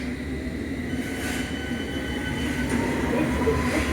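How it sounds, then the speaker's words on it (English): London Underground Metropolitan line train at Moorgate station, rumbling steadily with rail noise and faint wheel squeals building toward the end; close and continuous, with no talking. "This is the Metropolitan line train to Aldgate."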